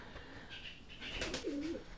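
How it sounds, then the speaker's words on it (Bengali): Sherazi pigeons in a loft give a close, soft coo with a rolling, throaty tone, and faint background rustle surrounds the call. "এই যে দেখতে পাচ্ছেন কবুতর"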